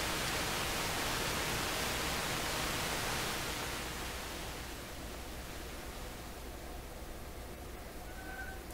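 Steady hissing interstation static from a McIntosh MR71 FM receiver fills the clip, loud at first, then thinning and softening midway as the noise partly quiets, with a faint tone appearing near the end.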